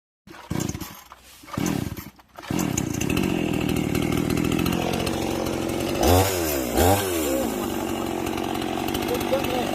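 A chainsaw revs in short bursts, then runs steadily and loudly, with two rising whines as it bites into wood while felling a tree close to a house.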